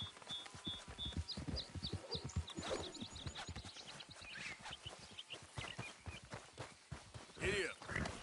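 Hooves clip-clop in a quick galloping rhythm as a horse runs in Red Dead Redemption, with a whinny near the end and someone speaking briefly over it.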